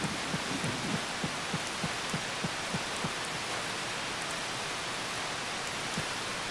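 Steady rain and storm noise from Harvest Moon: Save the Homeland, a broad constant hiss with a run of soft low thumps early on, playing on its own with no voices.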